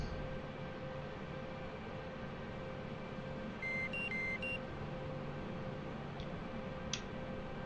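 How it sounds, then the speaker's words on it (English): Apache helicopter cockpit in DCS World sounds a short series of electronic warning tones, several quick beeps in a brief cluster, over a constant engine hum with no speech. "The alarms that you're hearing now."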